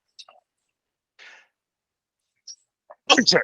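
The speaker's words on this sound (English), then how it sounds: "I had to sneeze." A single person's sneeze, a short sharp burst at the end after a few faint breaths and small mouth noises, close and fairly loud with no talk.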